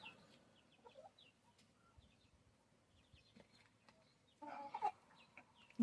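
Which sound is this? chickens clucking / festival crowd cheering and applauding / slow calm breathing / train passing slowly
chickens clucking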